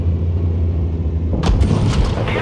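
A tank gun fires in the World of Tanks Blitz game, a single sharp boom at about 1.4 seconds that breaks over a steady low engine rumble, with a brief crackling tail after the shot.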